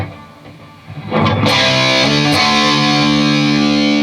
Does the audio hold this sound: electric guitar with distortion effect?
yes